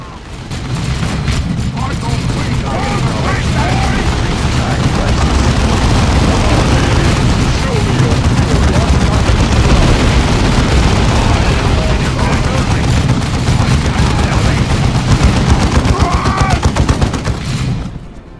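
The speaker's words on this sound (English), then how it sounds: "Devastator's ready to fire. Our heavy bolters are deadly" Devastator squad heavy bolters firing in the game Dawn of War II, a loud, dense, continuous roar of rapid gunfire and blasts lasting the whole stretch, with speech faintly mixed in.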